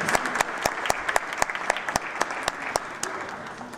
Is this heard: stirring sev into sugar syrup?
no